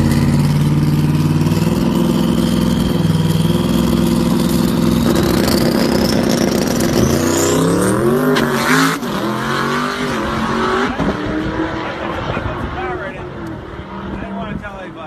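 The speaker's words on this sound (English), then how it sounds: "the twin turbo Dodge Demon that is now the record holder for the fastest Demon in the world" Loud, continuous roar of a twin turbo Dodge Demon race car, its engine note rising in pitch as it accelerates hard, then dropping and settling into a lower rumble. A voice seems to be talking over it.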